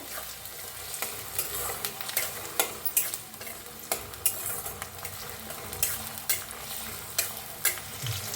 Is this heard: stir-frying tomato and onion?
yes